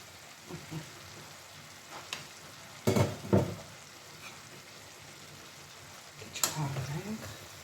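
Chopped cabbage and greens fry in a pan, a soft steady sizzle with a few louder stirring bursts and clatters, close by at low level.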